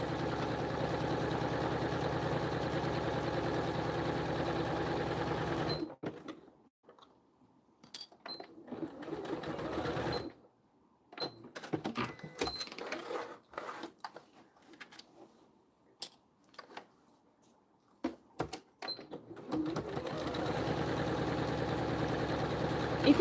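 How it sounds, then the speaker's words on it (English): A sewing machine with a walking foot runs top stitching lines across a vinyl zippered pouch, a steady close mechanical whir that stops for a stretch of quiet clicks and handling, then resumes at the end. "I'm going to quickly just stitch down these lines"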